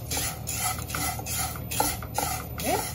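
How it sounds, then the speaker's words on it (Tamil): Flattened rice (aval) is dry-roasted and stirred in a pan, with a steady rhythmic scraping and rustling of the flakes against the metal, close and continuous with no talking. "இந்த ஒரு கப் அவல வந்து நான் கொஞ்சம் வறுத்து எடுத்துக்க போறேன்"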